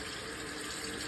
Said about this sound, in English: I think I turned on the cold water.